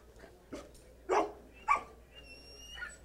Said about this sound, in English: And so he'll give me a bark like that.